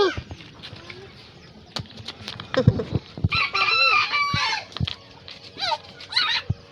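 Chickens cluck and a rooster crows loudly and nearby in a backyard, the fowl calls running over one another while people talk nearby.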